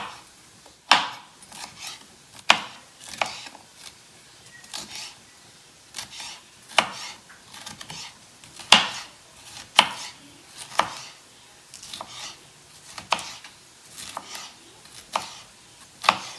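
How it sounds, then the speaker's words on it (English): A knife chops through a pepper on a cutting board, with sharp, crisp strikes repeating at an uneven pace and short pauses between bursts. "all you have to do is chop your pepper up"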